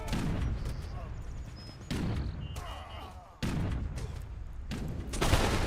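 Musket volleys and cannon fire from an Age of Empires 3 battle, with repeated heavy booms and crackling gunfire bursts rolling on continuously under steady commentary.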